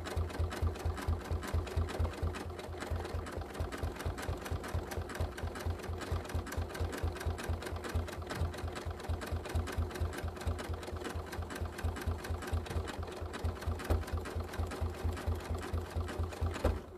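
Sewing machine running steadily for the whole stretch while stitching over couched thread, a fast, even mechanical rattle close to the microphone with no pauses.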